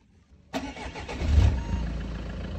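A Citroën C5 HDI car engine cranks and catches after a short near-silent pause, then settles into a low, rumbling idle heard up close.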